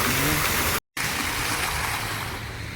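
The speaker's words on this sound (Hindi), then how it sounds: "आवाज़ कितनी जा रही है आगे पानी में गिरने।" Steady rushing water pours and splashes continuously as it falls into water in Oman, broken by a brief moment of silence.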